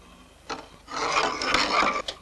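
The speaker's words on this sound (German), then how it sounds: "Hier wird der Strich mit der Hammerspitze eingeritzt." A hammer tip scratches a line into a roofing slate, giving a short tap and then a sustained close rasping scrape that ends in a quick flick, with no talking.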